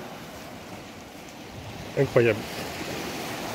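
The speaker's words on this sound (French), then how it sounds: "Le bruit des vagues là" Sea waves washing onto a clear-watered beach at a winter spot in France, a steady surf roar with a brief spoken exclamation in the middle.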